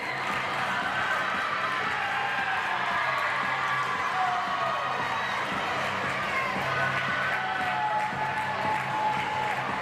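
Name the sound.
audience applause for swimmers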